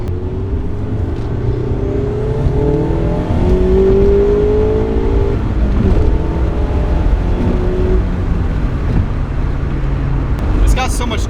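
A Mazda Miata ND1 accelerating, its engine revving up steadily through the gears with a rising droning tone and road noise, heard from inside the car while someone talks over it.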